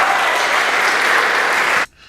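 Audience applause, loud and dense, sustains steadily for nearly two seconds before cutting off abruptly into near silence.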